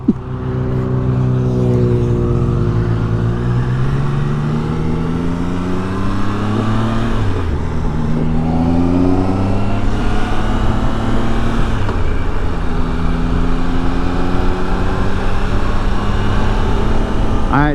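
A 2022 Triumph Tiger Sport 660 motorcycle engine pulls hard in third gear around 4,500 rpm, its loud, close, rising drone climbing in pitch through repeated surges and gear changes, with wind roar throughout.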